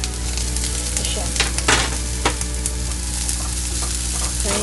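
Onion sautés in a pan for a vegetarian mushroom kare-kare, a continuous close sizzle broken by occasional scraping stirs of the utensil.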